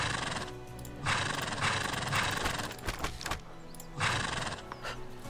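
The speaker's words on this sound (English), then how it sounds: "I like horse noise." Horses neigh and whinny loudly in the video game Broken Alliance, with hoof clip-clops between the calls, two strong bursts separated by a rumbling, busy game soundscape.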